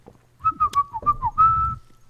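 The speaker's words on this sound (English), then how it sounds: "I just learned how to whistle actually last year." A person whistles a short, wavering tune of several clear notes, heard alone and close.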